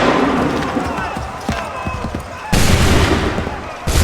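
Musket volley gunfire in Assassin's Creed 3, with loud crackling shots and booms over battle noise, a heavy burst of massed fire midway, and shouting voices throughout.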